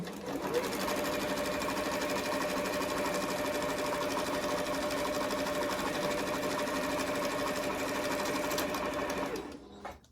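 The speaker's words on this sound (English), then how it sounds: "We are going to do a 1/4 inch inseam and just sew straight down." A sewing machine runs steadily for about nine seconds, stitching a straight 1/4 inch seam, with an even, continuous mechanical whir. It stops abruptly near the end, and no one speaks.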